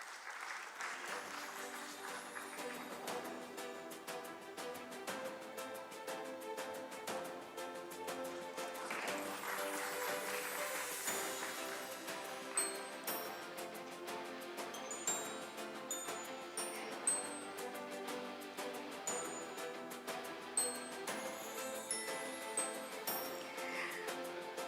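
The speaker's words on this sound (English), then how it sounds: "Can we have a huge round of applause for him?" A conference audience at an investments and global affairs event applauds Mr. Anand Chari as he receives an award. Music plays throughout, with sharper bursts of clapping rising over it in the later part.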